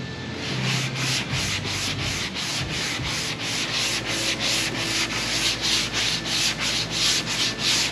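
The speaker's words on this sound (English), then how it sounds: "don't push in. Let the sandpaper do the work." Sandpaper on a block rubs back and forth across a painted car panel in a steady, even rhythm of about two strokes per second, close and continuous with no talk.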